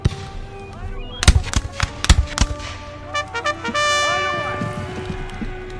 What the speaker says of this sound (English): My Union mid-war regiment is still firing here.